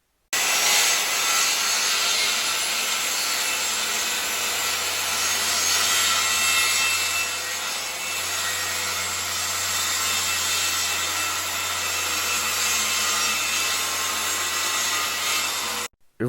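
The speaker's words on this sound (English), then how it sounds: "cut this hardwood plywood into 4 pieces diagonally" Circular saw cutting diagonally through hardwood plywood, a loud, sustained whining rip close by that holds steady for about fifteen seconds before stopping abruptly.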